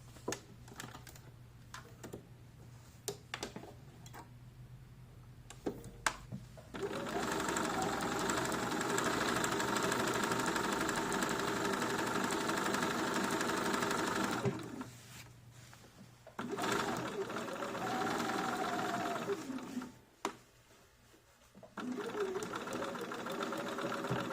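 A sewing machine stitches jeans pockets in sustained runs of rapid, even whirring, stopping briefly between seams, with lighter clicks and handling noise during the pauses.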